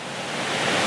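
Flowing water rushes in a mountain village in Mungyeong, a dense, steady broadband wash that swells slightly, loud and close, with no voices.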